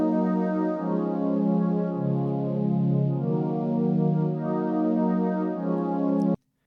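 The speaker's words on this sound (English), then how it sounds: "the Wavestation uses a custom preset based on the synth string" A Korg Wavestation custom preset built on a synth string patch, transposed up an octave, plays a sustained, lush string pad with slowly shifting chords, heard alone and cutting off abruptly at the end.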